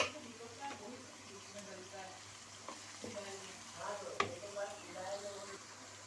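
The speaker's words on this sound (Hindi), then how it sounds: "टमाटर हमारे अच्छी तरह फ्राई हो गए हैं" Four large chopped tomatoes fry in a pan for bhindi gosht with a steady close sizzle and soft bubbling, broken by occasional stirring scrapes, while a voice talks over the cooking.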